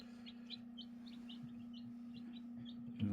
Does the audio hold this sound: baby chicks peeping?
yes